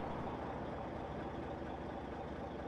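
Stock engine of a Mack R truck in American Truck Simulator, a steady, dense low rumble that holds even and close throughout without pauses.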